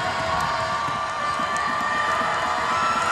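A crowd in a basketball arena at a women's college game, Miami Hurricanes against NC State, roars and cheers continuously, a loud, dense wash of voices with no break.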